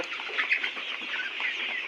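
Layer pullet chickens on a farm clucking and chattering together as a steady, busy flock murmur close by, with overlapping calls and no talk.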